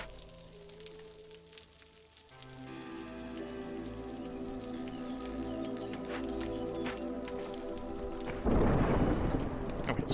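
A thunderstorm in the city-building game Against the Storm: steady rain and rolling thunder over a layered musical score. The storm swells gradually and breaks into a loud burst of downpour near the end.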